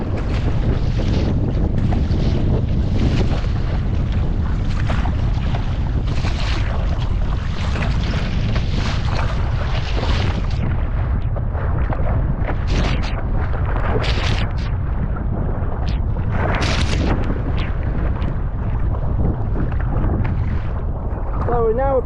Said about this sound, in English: I'm already punching into this very fierce wind